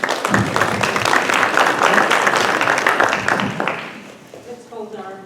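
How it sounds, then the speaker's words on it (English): Audience at a Santa Clara County civic forum on propositions and assessor candidates applauds loudly, a dense burst of clapping that tapers off after about four seconds into a voice speaking. "Let's hold our applause, please."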